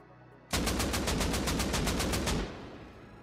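A burst of rapid automatic gunfire in Rust, about a dozen loud, close shots in quick even rhythm lasting two seconds, then a fading echo.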